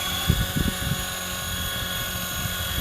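A T-Rex 450 Pro RC helicopter's rotor whines at very high head speed, a continuous buzzing drone with a few thumping pulses early on, close and fairly loud.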